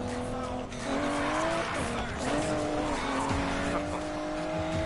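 Aston Martin DB11 driven in the racing game Need for Speed Payback, a steady loud engine drone with rising and falling revs and bursts of tire squeal, running continuously with faint voices mixed in.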